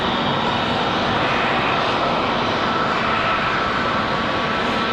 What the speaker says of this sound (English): Frontier departure.